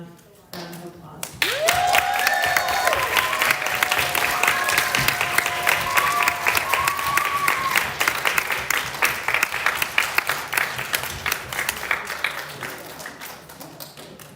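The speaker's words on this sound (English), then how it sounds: "Please give yourselves a long, long, loud round of applause." A long, loud round of applause from an audience at a school reader's theater event, dense clapping with a few whoops and cheers early on, gradually thinning toward the end.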